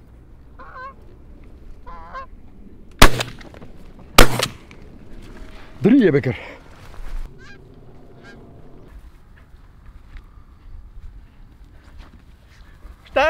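Geese honking in flight over Dutch fields during a hunt, a few scattered calls, with two sharp loud shotgun blasts and someone speaking Dutch between quiet stretches.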